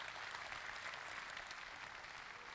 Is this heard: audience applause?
yes